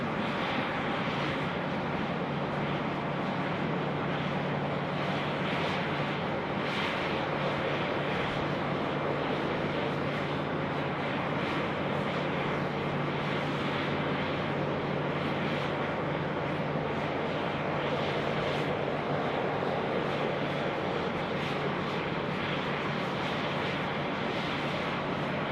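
British Airways Speedbird 16 departing Sydney Airport, heard as a continuous broad jet engine roar held at a steady level throughout, without voices.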